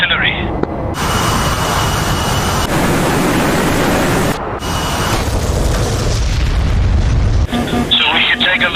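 Heavy artillery fire in a DCS World combat flight simulation: sustained loud, rumbling booms and explosion roar filling most of the clip, with brief drops to quieter moments and a tonal engine-like hum near the end, with voices talking over it.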